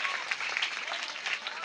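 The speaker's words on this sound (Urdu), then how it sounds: "آپ تالیاں بجا کے بتاؤ مجھے" An audience claps at an Urdu poetry recital, a dense, steady burst of applause heard close and moderately loud.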